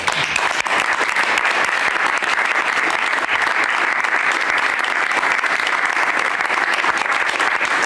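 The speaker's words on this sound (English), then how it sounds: "Who would have expected another round of applause?" Sustained applause fills a cabinet meeting room, a steady dense wash of clapping from many hands that stays loud and even throughout.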